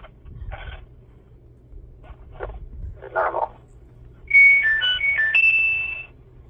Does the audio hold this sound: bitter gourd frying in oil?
no